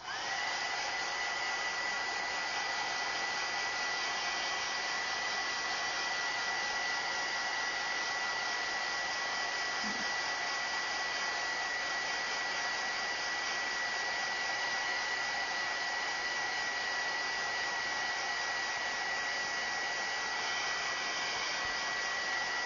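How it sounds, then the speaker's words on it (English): A heat gun blows hot air to dry paint, giving a steady, even whooshing hiss with a constant whine that holds unchanged from start to finish, with no talk. "I'll go ahead and turn on the heat gun"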